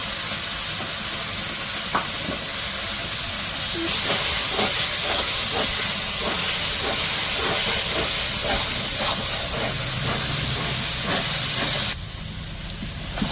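Spices fry in a pan for a village-style duck curry, producing a continuous loud hissing sizzle with faint scraping stirs, which swells after a few seconds and then drops away near the end.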